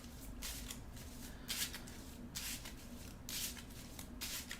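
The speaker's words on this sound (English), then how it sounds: "Shuffle up my deck." A deck of game cards is shuffled, a quiet, close run of riffling bursts repeated several times without talk.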